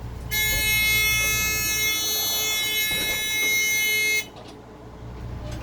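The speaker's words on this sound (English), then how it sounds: "The buzzer works, right?" A school bus emergency exit door buzzer blares as a loud, steady electronic buzz for about four seconds, then cuts off, leaving quiet engine rumble.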